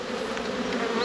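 Buckfast honeybees swarm around open hive frames during a colony inspection, a steady close buzzing drone that holds evenly throughout with no voices.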